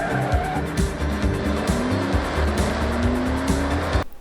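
Tires squeal through sharp turns in the Forza Horizon 6 racing game set in Japan, a loud near engine roaring and shifting pitch under long screeching skids before cutting off abruptly.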